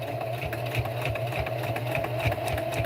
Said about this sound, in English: very carefully, I am stitching around the pot holder